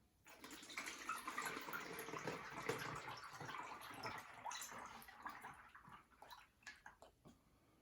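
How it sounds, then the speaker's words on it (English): Elderflower cordial pours through a sieve and funnel into reused plastic bottles, a continuous faint trickle and splash that thins into drips toward the end, with no voices. "I've got a sieve and I've got a funnel, and you just pour it in."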